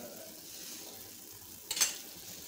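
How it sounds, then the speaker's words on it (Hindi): Ghee in a pan for chicken soup gives a short, faint sizzle and stir burst near the end, heard against quiet room background. "अभी हम इसमें हल्का सा थोड़ा सा घी डालेंगे, 1 चावल चम्मच और ये 2 चावल चम्मच।"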